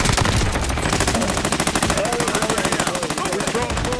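Rapid automatic gunfire from a Warzone match, a dense stream of loud shots firing steadily without pause, with talk faintly mixed in.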